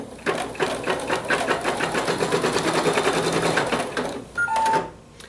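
Sewing machine with a 90 top stitch needle punching through several layers of fabric for an owl mug rug, a fast even rattle of stitches up close, slowing and stopping near the end.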